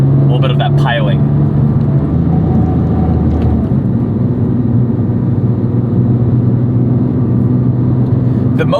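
A Porsche 911 GT3 997.1 heard from inside the cabin while driving, with a loud steady engine drone and road roar that shifts slightly in pitch as it changes gears, and someone talking over it.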